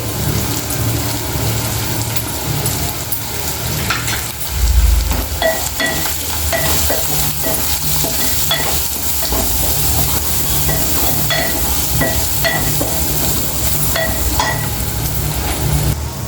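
Bitter gourd with ginger paste frying in oil in a pan, a steady close sizzle with occasional stirring scrapes that runs throughout, with no talking.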